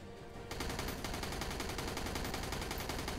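Video game gunfire bursts in after a short lull, a fast continuous rattle of rapid shots that stays loud and dense to the end, with no talk.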